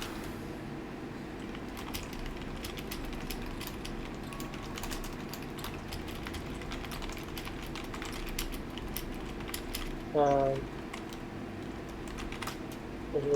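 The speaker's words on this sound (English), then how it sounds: "I'm just typing about the results stuff" Rapid, irregular clicks of a computer keyboard being typed on at close range. Brief talk cuts in near the end over a quiet room hum.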